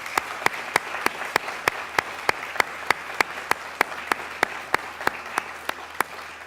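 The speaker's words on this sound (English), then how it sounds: "Let's give them a round of applause." Applause from a convocation ceremony audience: sharp, evenly spaced claps ring out clearly over a steady wash of clapping that holds at a constant level throughout.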